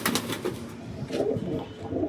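Pigeons coo in low, murmuring bursts close by, with faint wing and shuffling noise, repeating through a short busy stretch with no talk.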